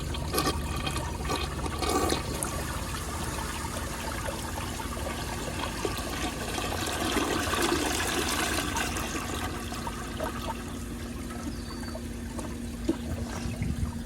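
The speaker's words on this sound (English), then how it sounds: "so let's give it a flush" A 1971 American Standard Cadet toilet flushes with its rim jets blocked, a strong, continuous rush and gurgle of water that keeps running and trickling for many seconds, close and alone.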